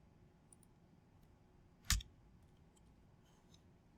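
One faint, sharp computer mouse click lands amid quiet background hiss during drawing work at a computer, alone and without talk.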